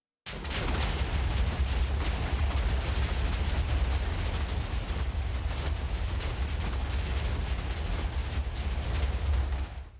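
Amplified spell explosions from a Minecraft modpack fire in a dense, continuous barrage. The loud rumbling booms and crackles overlap for about ten seconds without a pause.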